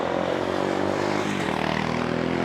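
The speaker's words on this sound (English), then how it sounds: "That was a loud motorcycle." A loud, steady engine drone with a deep harmonic rumble, a motorcycle roaring close by and passing on a street in Puerto Vallarta, continuous throughout.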